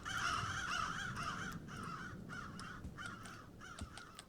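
Several crows in the Roblox game Doors caw in repeated harsh calls, loud at first and then in shorter, spaced-out bursts, with no one talking.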